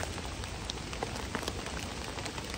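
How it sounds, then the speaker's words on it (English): Rain falls steadily outdoors with gusts of wind, a dense, continuous patter of drops hitting surfaces all around, loud and close with no pauses. "listen to the wind and the rain all around me"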